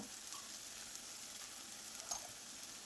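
Onions softening in a pan for potato masala, a faint, even sizzle that holds steady throughout with a couple of small ticks, heard up close and alone.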